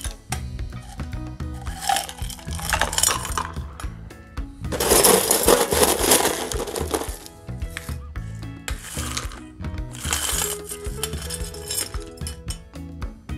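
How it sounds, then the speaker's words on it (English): Ice added to a cocktail glass for a tiki drink, clinking and rattling in bursts separated by quieter pauses, with cubes scraping and knocking against the glass up close. "And then gently top it off with additional ice inside of the glass."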